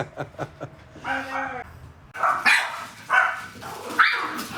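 Several dogs bark in quick bursts nearby, mixed with people talking and laughing over the commotion.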